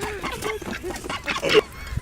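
A duck gives a few short honking quacks close by, a rapid rough burst lasting a couple of seconds.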